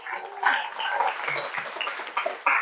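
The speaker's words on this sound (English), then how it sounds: "Round of applause." A lecture audience claps in a round of applause, a dense, crowd-wide patter that starts sharply and carries on steadily at fairly close range, with a fresh burst near the end.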